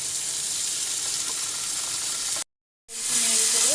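Cumin paste with green and dried chilli pastes sizzles loudly in a hot pan for a fish curry, a steady close crackle that cuts out briefly, then resumes with stirring.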